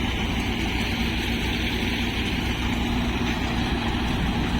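A peanut threshing machine runs steadily with a dense, continuous mechanical roar and a low engine-like rumble, loud and unbroken for the whole stretch with no voices.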